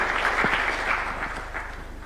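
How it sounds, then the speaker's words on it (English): An audience at a State House bill-signing ceremony in Nairobi claps to welcome the Cabinet Secretary, steady moderate applause from a gathered crowd with a low hum underneath. "Kindly, let's welcome him with a clap"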